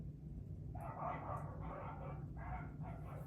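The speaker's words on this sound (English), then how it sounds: "What are they barking at?" Dogs bark in a series of muffled, somewhat distant yaps, several bursts in a row over a low background rumble.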